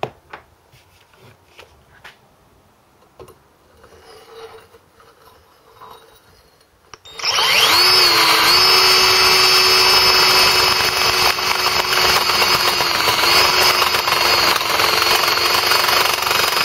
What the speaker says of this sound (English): once I drilled out as much as I could with the 22mm blacksmith bit